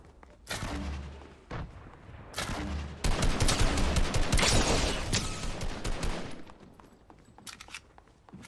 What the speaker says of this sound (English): That's somebody firing grenades over here.